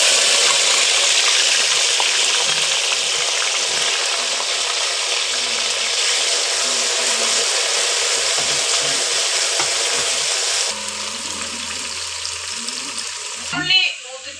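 Ginger and garlic fry in hot oil for a mango pickle, a close, continuous sizzle that drops noticeably quieter partway through, followed by a brief clatter near the end.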